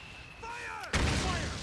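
A mortar explosion in Metal Gear Solid 4 hits about halfway through: a sudden loud, close blast that rolls into a sustained rumble. Before it, whistling, falling tones sweep over a low battlefield hum.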